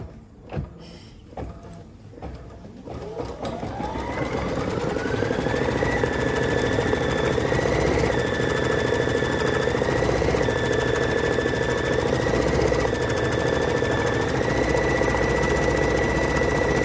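A new home embroidery machine starts up and runs steadily, a continuous mechanical whir and hum with a rising pitched motor tone and repeating cyclical pulses, close and fairly loud with no talking.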